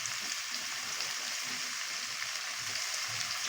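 Taro stolon frying with salt and turmeric in a pan, a soft, steady hiss of sizzling oil, faint and close, with no voices.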